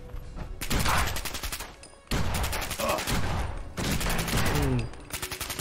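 Bursts of automatic gunfire in a Fallout-style shooter game, rapid loud volleys in three long strings separated by brief gaps, with faint in-game sounds underneath.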